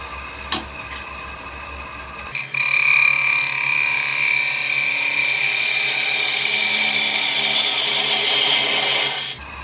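A bowl gouge takes a light finishing cut across the bottom of a spalted apple wood ogee bowl on a lathe, a steady loud scraping hiss running unbroken for about seven seconds after a brief start.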